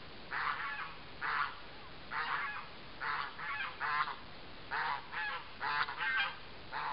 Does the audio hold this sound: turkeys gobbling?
yes